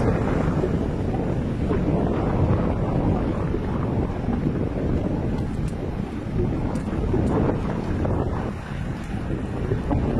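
Strong wind buffets the microphone continuously, a dense low roar with gusty swells throughout and no clear voices.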